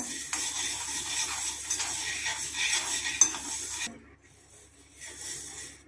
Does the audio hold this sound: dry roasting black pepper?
yes